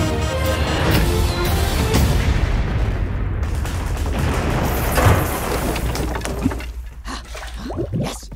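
Cannon fire in a Battleship-style game in the 2019 animated film The Addams Family: a loud, booming blast with a sustained rumbling roar that fades toward the end into quieter debris and splashing sounds.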